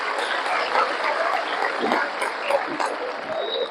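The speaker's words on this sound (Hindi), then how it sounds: "उनके भक्तों में जोरदार तालियां मारकर स्वागत करना चाहिए" Devotees at a Pandit Pradeep Mishra katha in Amravati clap loudly to welcome Pandit ji, a continuous crowd of hands with scattered sharper claps standing out, fairly close and busy throughout.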